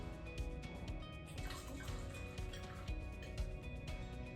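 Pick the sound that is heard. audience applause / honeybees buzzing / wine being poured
wine being poured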